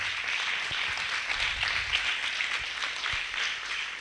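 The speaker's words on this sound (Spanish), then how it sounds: "Yo le daría ese fuerte aplauso al Señor." A church congregation claps in praise during a sermon, a steady full wash of applause from many hands throughout, fairly close and without talk.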